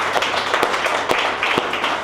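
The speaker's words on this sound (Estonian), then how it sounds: "Kuule, siin jääb küll aplausi." Applause for a chef in a restaurant cooking show, a steady wash of clapping with a few sharper claps standing out over about two seconds.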